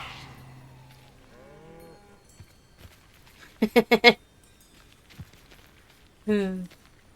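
A cow in the video game Hogwarts Legacy gives a few short lowing calls in quick succession, close and clear, with a player talking around it.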